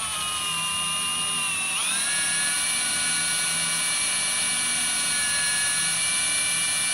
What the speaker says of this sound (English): So we're just drilling our hole.